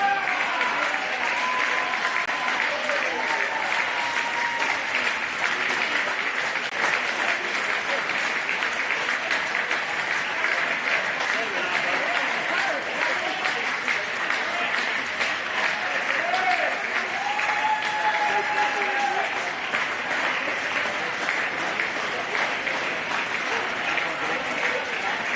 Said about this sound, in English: please keep the applause going for your champions as we present them with their medals